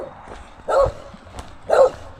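A dog barks twice at a hiker wearing a backpack on a mountain trail, with sharp, fairly close barks about a second apart over faint outdoor background noise.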